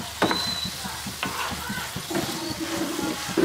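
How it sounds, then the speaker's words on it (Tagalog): Bihon noodles with sardines being stirred in a pan: repeated scraping and tossing strokes over a steady frying sizzle, with sharp utensil clacks at irregular intervals, close up and with no clear talking. "Halo lang ng halo."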